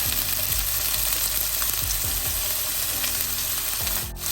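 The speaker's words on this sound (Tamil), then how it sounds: "அதோட வெங்காயம் தக்காளி சேர்க்குறேன்" Onion and tomato, added with a little pepper, fry in a pan for a Tamil vegetable rice dish, giving a loud, continuous close-up sizzle with faint stirring clinks and no break.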